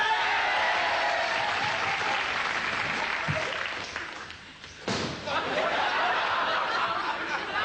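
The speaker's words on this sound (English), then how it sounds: "I just think he deserves a round of applause." A TV studio audience applauds loudly and steadily for several seconds, the clapping dipping briefly midway before swelling again, with some laughter mixed in.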